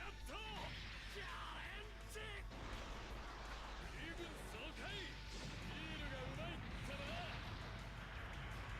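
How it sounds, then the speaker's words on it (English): Booming explosions and crashes from Super Robot Wars Z3 rumble continuously under busy, layered game sounds and a talking voice. "Now that's some good explosion effects and animation."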